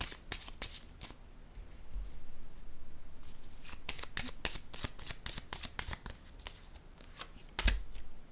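Tarot cards being handled and shuffled up close, with crisp riffling bursts and sharp card snaps separated by brief softer stretches of sliding cards.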